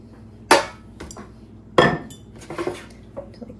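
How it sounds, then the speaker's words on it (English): A spoon clanks against a dish while roasted mushrooms are scooped onto rice: two sharp, loud clinks with a few softer knocks between and after, with no talking. "So I'm just gonna go ahead and scoop them into our rice or on top of the rice."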